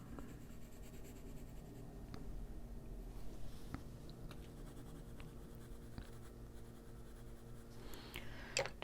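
Pencil shading black on smooth paper for an adult coloring heart ornament, giving a soft, continuous close-up scratching that runs steadily with small strokes and no talk.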